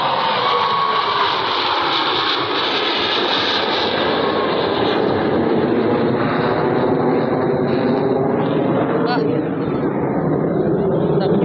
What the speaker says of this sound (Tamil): அப்புறம் அங்கே போகிற ரஃபேல் ரஃபேல்